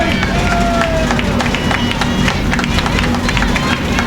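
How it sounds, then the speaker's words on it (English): Home crowd at a college softball game, St. Mary's against Oklahoma Panhandle State, rallying behind the Rattlers with a steady wash of voices, shouts and scattered claps that stay dense and lively throughout. "Rattler crowd starting to get behind their Rattlers"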